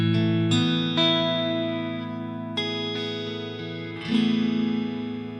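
Electric guitar played through a Line 6 Helix reverb preset, a handful of clean sustained chords and notes whose long, shimmering reverb tails ring on and overlap, fairly quiet and alone.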